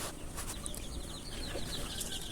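Ten-day-old native (deshi) chicken chicks peep in a dense chorus of high, rapid chirps on a poultry farm, faint and continuous under steady background noise.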